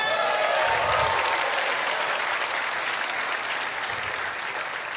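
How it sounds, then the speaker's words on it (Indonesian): Crowd applause after a speech by Anies Baswedan at an event, a dense, even wash of many hands clapping that stays loud throughout and fades slightly toward the end. "Tepuk tangan buat Mas Anies Baswedan"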